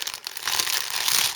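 A resealable plastic bag from a 1:72 Hawker Hurricane Mk IIB model kit crinkles and rustles as it is handled and opened, close up and fairly soft, with no talking.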